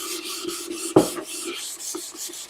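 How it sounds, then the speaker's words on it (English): Wet timber being hand sanded in a workshop: a steady, close rasping rub of abrasive on damp wood, with a sharper scrape or knock about a second in. "you need to wet the timber down with water and give it a sand while it's wet"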